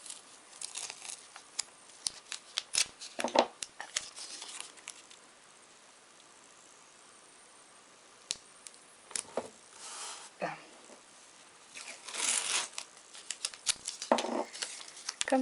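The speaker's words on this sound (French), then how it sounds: "je vais scotcher mon pochoir sur la carte avec du scotch de masquage" Masking tape is torn and pressed down to fix a stencil onto a card, giving quiet, scattered crinkles, rips and soft pats across a hushed room.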